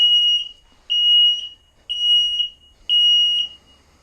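A propane/gas detector alarm in a 2020 Starcraft Autumn Ridge 20MB travel trailer sounds during a test: four loud, piercing high-pitched beeps, each about half a second long, at an even pace with short silences between.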